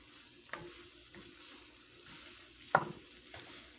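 Onion and mutton kidney fry in a pan with a low, steady sizzle, broken by a few scraping stirs and one sharper clatter near the end.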